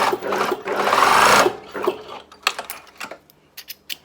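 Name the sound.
sewing machine stitching linen for embroidery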